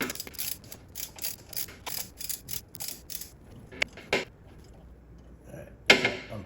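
A socket ratchet on an extension clicks in quick rhythmic bursts while loosening a spark plug on a Ferrari F430 engine, close up, followed by a few sharper metallic knocks and a brief scrape, with no talking.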